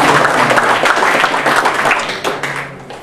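An audience at a local commerce and crafts gathering in a Rome hotel applauds for a speaker, a dense, steady wash of many hands clapping that gradually thins and fades toward the end.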